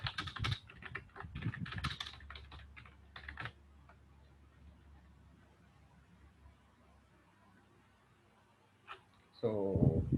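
Typing on a computer keyboard while entering a commit message for a GitHub project, with rapid clicking key taps coming in bursts, mixed with some talking early on and a louder thump near the end.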